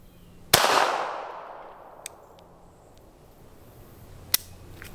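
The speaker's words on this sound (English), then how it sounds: "I don't know where that shot went" One sharp, loud report from a .380 EDC pistol cracks at close range and decays into a long fading echo, followed by a couple of faint clicks.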